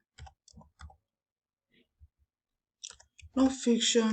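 Computer keyboard keys tapped while entering a search, with scattered close, crisp clicks and short pauses, followed by a voice starting to talk.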